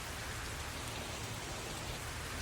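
Steady rain falls just after an outdoor show, a dense, even hiss of drops on surfaces that stays continuous and fairly close throughout, with no voices.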